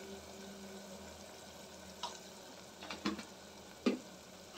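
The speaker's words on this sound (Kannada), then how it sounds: "ಇದನ್ನು ಚೆನ್ನಾಗೆ ಫ್ರೈ ಮಾಡ್ಕೊಬಿಡೋಣ ನೋಡಿ. ಆಲ್ಮೋಸ್ಟು ಇದರೊಳಗೆ ಈರುಳ್ಳಿ ಟೊಮೊಟೊ ಎಲ್ಲ ಫ್ರೈ ಆಗಿಬಿಟ್ಟಿದೆ" Onion and tomato masala with spices and turmeric frying in a pan for chicken biryani, a faint steady sizzle with a few soft stirring scrapes and clinks.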